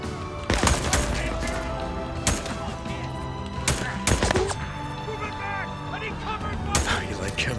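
Loud shotgun blasts in the video game Days Gone, a handful of sharp booming shots spaced irregularly over a steady background of game ambience and music, with a voice speaking between them.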